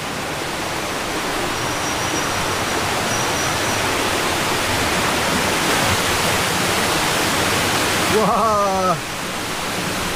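Steady broadband rush of a stream or small waterfall on the Gunung Nuang hiking trail via Janda Baik, loud and continuous throughout, with a short exclamation from a person near the end.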